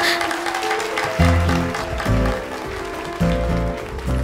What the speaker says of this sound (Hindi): तालियों की आवाज से तो मैं भूल ही गई कि मुझे क्या बोलना है